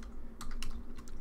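Several quick keystrokes on a computer keyboard while entering Python Pygame code, clicking in small bursts close up over a low steady hum, with no voices.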